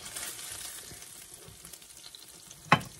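Beef patties for Salisbury steak sizzle and fry in a pan, a steady soft crackle that runs throughout, ending with one sharper knock or clatter near the end.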